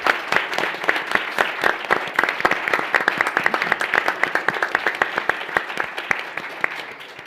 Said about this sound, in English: give our participants on the panel a round of applause